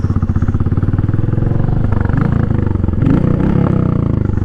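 Royal Enfield Meteor motorcycle riding along a gravel dirt road, a loud, steady single-cylinder thump with a constant engine drone and faint clatter throughout.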